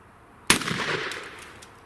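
A shotgun loaded with Federal shells fires once at a target outdoors, a single sharp, loud blast that trails off in a brief echo.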